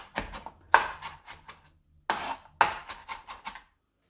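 Knife chopping finely diced onion on a wooden cutting board for a mushroom cream sauce: two quick bursts of sharp, close, rhythmic chops separated by a short pause, with no talking.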